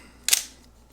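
A Nikon FG-20 film SLR gives a single sharp mechanical click near the lever, a brief bright snap fading quickly into quiet.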